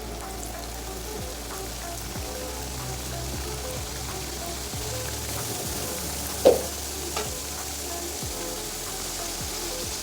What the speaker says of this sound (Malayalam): അപ്പോൾ ഇനി ഇത് പൊരിച്ചെടുക്കണം